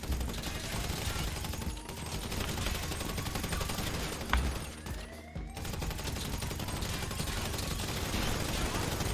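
Rapid gunfire bursts in GTA Online during a casino heist, loud and continuous with dense volleys across the whole stretch, a brief lull midway, and faint talk underneath.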